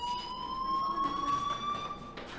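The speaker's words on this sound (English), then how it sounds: "do you hear that fire alarm?" A school fire alarm in the video game Life is Strange rings as a steady electronic siren tone, continuous and moderately loud with faint background noise, no speech.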